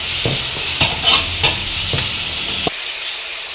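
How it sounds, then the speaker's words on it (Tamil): Onions sautéed with salt in a pan for chicken gravy sizzle loudly and close, broken by several sharp spatula scrapes and knocks in an uneven rhythm before cutting off near the end. "உப்பு சேர்த்து நல்லா வதக்கிக்கலாம் ஃப்ரெண்ட்ஸ்."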